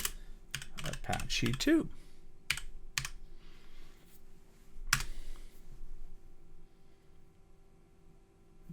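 A computer keyboard clicks in short bursts of typing, close and fairly quiet, while someone speaks briefly over it.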